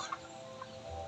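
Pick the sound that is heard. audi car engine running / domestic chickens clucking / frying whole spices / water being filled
domestic chickens clucking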